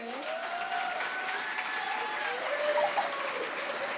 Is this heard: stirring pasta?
no